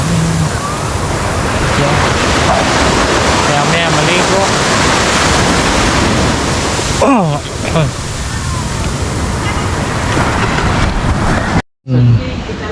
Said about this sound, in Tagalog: Dito lang naman ito sa tabing dagat.